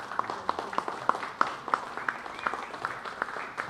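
An audience at a lecture forum applauds after a talk by Ted Gunderson, with scattered, fairly sparse individual claps ringing out at a moderate distance, thinning toward the end.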